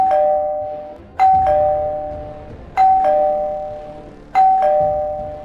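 A two-tone doorbell in a video game chimes three times at a steady pace, each bright ding followed by a lower tone that rings out clearly with no voices.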